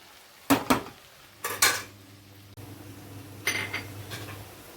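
Okra fry is stirred slowly in a pan, with a few separate scraping clinks of a metal spatula against the pan over a soft, steady background sizzle, and no one speaking.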